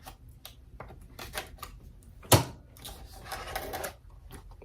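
A taped-shut cardboard box holding a mini guitar looper pedal is opened nearby, with scraping, rustling and one sharp tearing rip, followed by crinkly cardboard handling.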